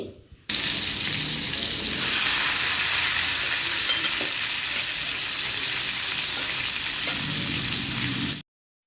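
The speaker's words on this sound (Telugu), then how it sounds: "ఈ చేప ముక్కలు నీట్గా వాష్ చేసిన తర్వాత ఇప్పుడు వీటిని ఆయిల్లో వేసి వేపించుకోవాలి." Pieces of dried fish fry in hot oil, a loud continuous sizzle and crackle that starts abruptly and holds steady for several seconds before cutting off, close up with no talking.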